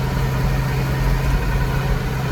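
A Massey 1200 tractor engine idles steadily with a low, constant rumble, close and loud, with no talk over it.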